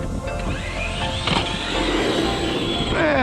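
A Traxxas Summit RC truck in high gear, its electric motor whining loudly and continuously, rising and shifting in pitch as it strains close by.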